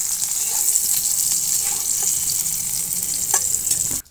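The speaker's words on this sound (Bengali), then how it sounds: "এবার বেগুনগুলোকে আমি প্রথমে ভেজে নেব।" Small brinjals fry in mustard oil in a kadai with a steady close sizzle, crackling and stirring scrapes, cutting off abruptly at the end.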